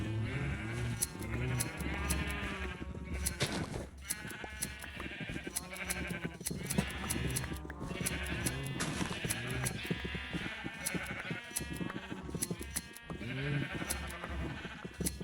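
Sheep in the video game Minecraft bleat again and again, several overlapping wavering calls layered over game music at a steady, moderate level for about fifteen seconds, with no talking.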